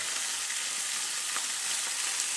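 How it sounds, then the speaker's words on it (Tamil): Cumin seeds dry-roasting with garlic in a pan for fish curry give a steady, soft sizzle and crackle, even and continuous without any talking. "சீரகம் ஒரு 1/2 ஸ்பூன். இதை மட்டும் வறுக்கலாங்க."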